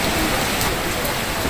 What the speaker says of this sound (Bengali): বৃষ্টি শুরু হয়ে গেছে